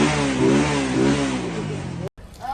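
A motorcycle revs and accelerates as it passes close by, a strong rising engine note lasting about two seconds before cutting off abruptly.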